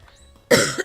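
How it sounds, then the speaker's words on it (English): A single sharp, loud cough bursts out close after a brief near-silence, ending with a short throaty rasp. "Excuse me with the coughing."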